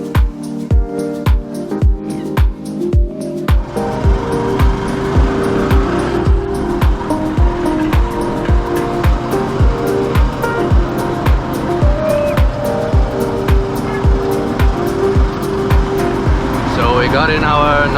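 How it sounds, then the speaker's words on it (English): A small motorized tricycle in Masbate, Philippines, putters along with a loud, rhythmic engine chug, steady pulses throughout, close and noisy with some road rumble. "Got in our noisy tricycle."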